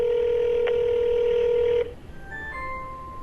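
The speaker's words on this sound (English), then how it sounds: "It's ringing." Over a phone on speaker, a call rings out as one long continuous electronic tone that stops suddenly, followed by faint scattered beeps and tones.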